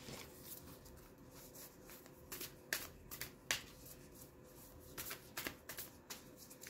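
Oracle cards shuffled and pulled during a tarot reading, a steady soft riffling with several sharper slaps and flicks standing out, fairly quiet and close.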